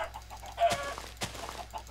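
Chickens in the video game Minecraft give short clucks, with two sharper, louder calls standing out among softer, intermittent clucking at a moderate distance.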